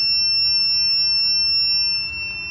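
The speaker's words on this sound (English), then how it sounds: "When you press the button that quick, you get an audible detection." A Klein NCVT-3P non-contact voltage tester emits a steady high-pitched electronic beep continuously and loudly, with a low hum underneath, dropping slightly in level near the end.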